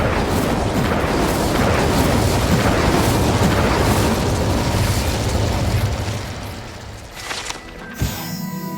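A fiery Incendio spell blast from Hogwarts Legacy roars as a loud, dense burst of flame and rumble for several seconds, then fades to a quieter tail before a short final thump.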